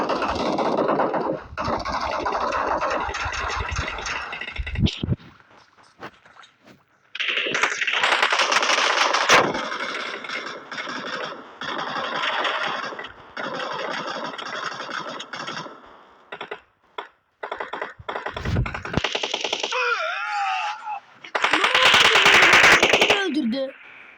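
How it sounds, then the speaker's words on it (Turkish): Gunfire from the PUBG video game comes in loud bursts of rapid automatic shots separated by short pauses, with an engine-like drone and scraping between volleys and a final heavy burst near the end. "Ya bana niye sıkıyorsun?"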